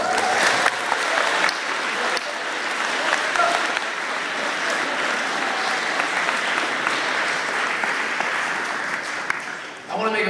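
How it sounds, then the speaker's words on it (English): An audience at a HEAL4Life event at WDHS claps in a dense, sustained round of applause that stays loud and even for about ten seconds before tapering at the very end. "Let's give another round of applause."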